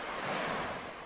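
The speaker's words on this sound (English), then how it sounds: "I love the sound of that sea." Surf washes onto the shore at Castle Rock Beach in Western Australia, a steady broadband rush of waves with some wind noise, no voices.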